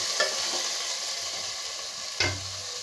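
Sliced onions and tomato sauté in a pan, a steady soft sizzle marked by two distinct scraping stirs of a spatula, one near the start and one louder near the end; no voices.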